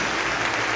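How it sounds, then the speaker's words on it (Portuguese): Church congregation applauding during a worship service, a brief burst of dense, loud clapping from many hands close by. "Você pode aplaudir ao Senhor Jesus por essas vidas, pela dedicação"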